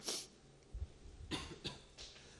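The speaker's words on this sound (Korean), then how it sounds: "갑자기 기침이 나오네요" A single cough bursts out in a church sanctuary during a Sunday morning service, followed by a few softer throat-clearing coughs and rustles, fairly close and alone with no talking.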